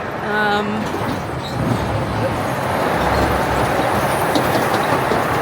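A roller coaster train on the Rattlesnake ride at Chessington World of Adventures rumbles and clatters past the queue, loud and close, with a short tonal beep near the start and a crowd murmuring underneath.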